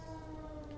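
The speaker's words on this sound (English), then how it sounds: "we've got an ambulance coming by here, or a fire truck" An ambulance or fire truck siren sounds at a busy street corner, a faint, steady wail held at a distance throughout the short stretch.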